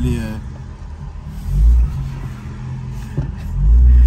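A powerful car, about 1000 hp, gives short rumbling engine revs that swell twice, loud and close, while people talk over it.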